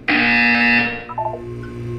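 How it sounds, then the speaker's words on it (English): A single loud electronic buzzer sounds in the video game Portal 2, a harsh tone that holds for about a second before decaying into a fainter ringing tail. "You will hear a buzzer."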